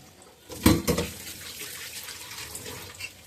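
Water runs briefly from a kitchen tap as hands are rinsed during home cooking, a short louder splash burst near the start followed by a softer steady trickle, with no talking.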